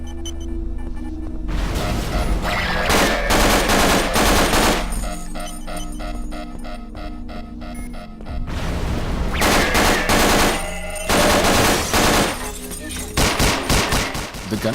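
Gunfire from weapons in the Wilson Chronicles game mod, loud automatic bursts and rapid shots starting and stopping across the span, with blasts and game effects between volleys.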